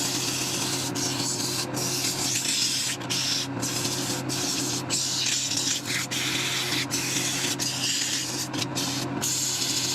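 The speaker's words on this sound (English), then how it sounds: "Next step, sanding. We're going to sand from 80 to 400 grit." Continuous abrasive rubbing as sandpaper, 80 to 400 grit, works against wood spinning on a lathe, a steady rasping hiss broken by brief pauses and shifts in pressure.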